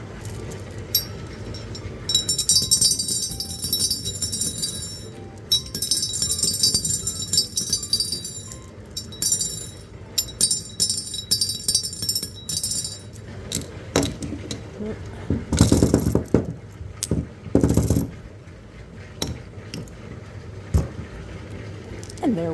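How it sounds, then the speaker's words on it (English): Frosted glass marbles clink and tap as they are set into a glass jar, a series of light, scattered clicks with pauses between them, fairly close and alone. "I think I'm going to put them in this jar in a pattern."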